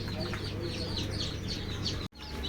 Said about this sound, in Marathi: ओरिजिनल गावठी कोंबडीची पिल्ला आहे